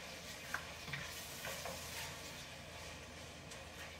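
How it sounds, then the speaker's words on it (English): Sloppy joe mixture being stirred in a pan, a low steady sizzle with soft scraping strokes of a spoon, faint and close with no talking. "so now we're going to stir that all together"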